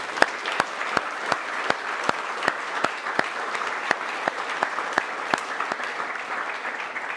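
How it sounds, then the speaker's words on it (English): Audience at an annual award presentation day applauding new black belts, a modest crowd clapping steadily with a few sharp, distinct claps standing out, fairly close. "Give these new black belts a round of applause."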